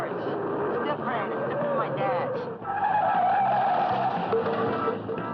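A cartoon car skids with tires squealing in a long, strained screech during a joyride scene, mixed under speaking voices and a continuous engine-like rumble.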